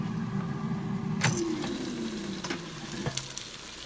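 Hot wings sizzling in an opened Gourmia 6-quart air fryer with a steady hiss, punctuated by a few light clicks and scrapes as the wings are flipped.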